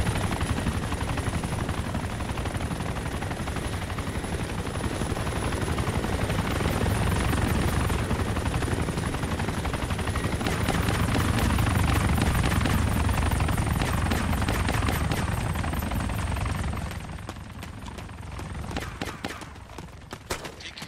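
A helicopter in the game Insurgency flies close overhead with a loud, steady rotor thump and engine roar, joined by bursts of rapid gunfire, fading slightly near the end.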